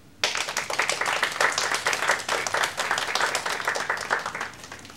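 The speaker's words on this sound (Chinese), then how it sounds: "让我们掌声欢迎他们。" An audience applauds at a jewelry company press launch, a burst of dense clapping that starts abruptly and continues steadily before tapering slightly.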